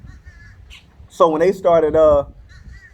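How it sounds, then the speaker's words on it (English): Crows cawing loudly outdoors, a string of harsh caws in close succession, with someone talking in the foreground. "I got a lot of birds. I don't know, they having like a gang war."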